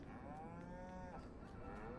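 Cattle in the Farming Simulator 19 video game moo in one long, drawn-out, tonal low, steady and clear over a quiet farm background.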